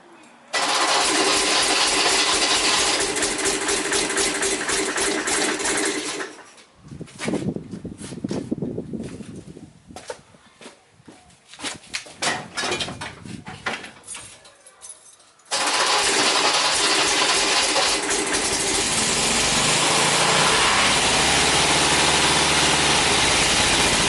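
A car engine runs after a repair to its leaking carburettor float chambers. It roars loudly at first, cuts out into scattered knocks and rattles for several seconds, then restarts and settles into a steady loud idle.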